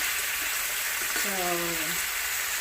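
Tomatoes cooking down in a pan with shrimp, giving a constant close sizzle with a brief voice heard over it.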